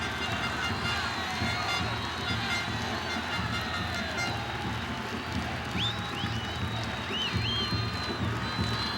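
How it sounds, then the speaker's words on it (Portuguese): A stadium crowd at the Brazil–China international friendly applauds and cheers Neymar with a continuous roar and a few whistles, steady throughout under match commentary. "deixa ele ser aplaudido agora, né?"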